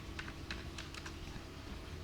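Quick light keystrokes on a computer keyboard, a handful of soft clicks in an irregular rhythm, faint and close over a steady low background hum.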